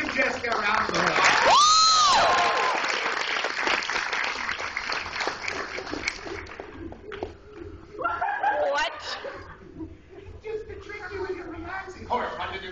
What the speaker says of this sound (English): Give Jessica a round of applause.